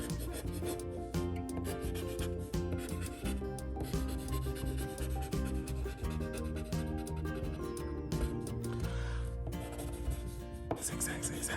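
Zigzag lines are drawn across a whole sheet of paper, giving a continuous rubbing scratch that runs under steady, loud background music with no talking.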